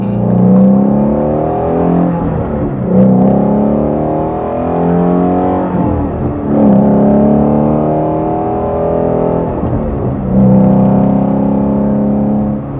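A Ford Shelby GT350 drives and accelerates through repeated gear pulls, its engine rising in pitch, dropping at each shift and climbing again, loud and close throughout with no talk.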